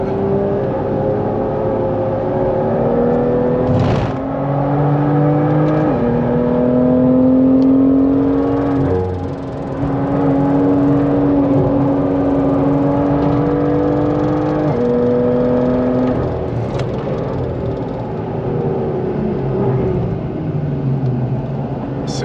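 A car laps a race track at a French trackday, its engine droning loud and steady with pitch climbing and dropping through gear changes, and no voices.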